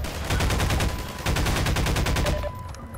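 Rapid automatic gunfire from a weapon in the video game Half-Life 2, two loud sustained bursts of closely spaced shots, the second cutting off before a quieter tail.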